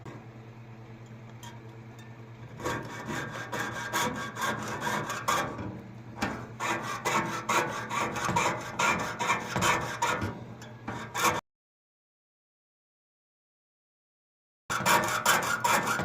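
Fine saw cutting through sterling silver, a close rasping stroke-by-stroke scrape repeated steadily for several seconds, then a pause of silence before the rasping resumes.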